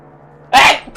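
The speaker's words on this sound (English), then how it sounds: "Oh, that was a hell of a sneeze." A single loud, close sneeze bursts out after a quiet moment, sharp and breathy, followed by a brief trailing breath.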